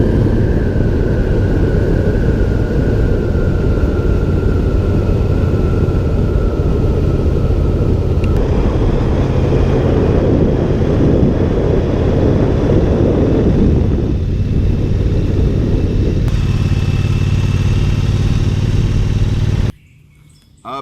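A Triumph Bonneville Speedmaster motorcycle cruises and accelerates on the road, with a steady low engine rumble and heavy wind noise that shifts in pitch as it speeds up, loud and close, then cuts off abruptly near the end.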